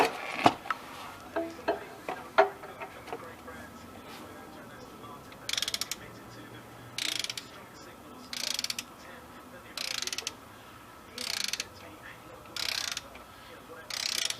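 Ratchet wrench tightening Corvette flywheel bolts, a few clicking strokes followed by evenly spaced bursts of rapid ratcheting at close range, repeating about every second and a half.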